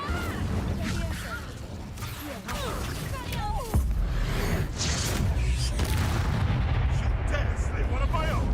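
Confringo and Incendio spells cast in Hogwarts Legacy, a series of booming, crackling magical blasts and whooshes that build into a sustained roar, with voices speaking over parts of it.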